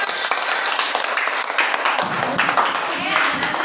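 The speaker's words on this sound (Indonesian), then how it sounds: "tepuk tangan untuk kelompok 5" Classroom of students clapping for a group that has just finished presenting, a scattered, moderately loud burst of claps that thickens midway, with children's voices mixed in.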